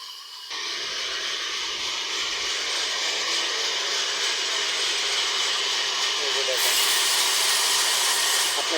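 A wood-cutting machine runs as tree timber is cut at a timber business, with a steady loud hissing roar that holds from start to finish and grows a little harsher near the end.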